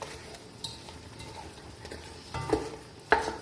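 Crushed onions frying with mutton on medium flame for mutton biryani, a soft sizzle under repeated stirring and scraping, with a couple of sharper utensil clanks against the pot.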